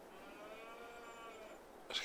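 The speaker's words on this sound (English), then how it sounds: "The cows are happy, fed, got all the bedding they need, producing milk." Game cows in Farming Simulator 22 give a single long, faint moo on the farm, steady and drawn out, then a brief brighter noise at the end.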